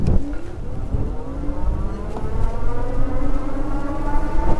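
MeeBike Gallop electric bike pulled up to full throttle with a quarter-twist throttle, ridden into slight headwind, giving a rising motor whine whose pitch climbs steadily over a continuous rumble of wind and road noise.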